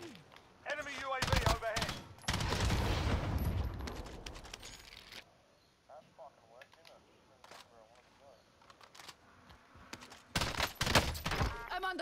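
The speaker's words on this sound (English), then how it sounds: "I'm under fire." Video game firefight with bursts of rapid gunfire and loud shots that come and go, mixed with game voice callouts and speech across the scene.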